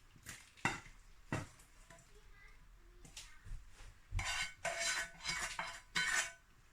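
Cooked-down Scottish apple crumble filling is spooned into a small bowl, with a spoon and pan producing scattered scrapes and clinks, some sharp, others in quick clusters.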